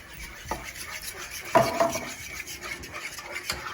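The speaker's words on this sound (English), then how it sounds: "And then I'm going to add the couscous, and I have to stir it up while it's adding it." Couscous being stirred into beef stew in a pot, with soft scraping and rubbing strokes of a spoon against the pot, one firmer scrape standing out amid quieter, intermittent stirring.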